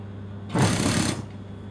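Sewing machine stitching the lining of a dress, a single short burst of rapid mechanical whirring that starts abruptly and stops after about half a second.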